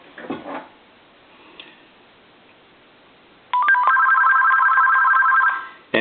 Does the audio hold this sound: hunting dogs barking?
no